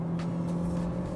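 A Skoda Octavia's naturally aspirated 1.6 engine accelerates with a steady droning hum heard from inside the car, even and unhurried, with a few faint ticks over the tone.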